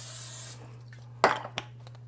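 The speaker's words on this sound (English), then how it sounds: "So I'm going to spray them." Cooking spray is sprayed into loaf pans in a short, steady hiss lasting about half a second. A few faint knocks follow against a low background hum.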